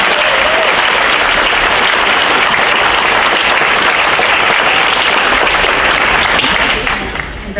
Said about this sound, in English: Big round of applause for all of those.